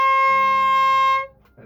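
A sustained oboe tone rich in harmonics holds steadily for over a second, loud and close, then cuts off into a short quiet tail with faint noise at the end.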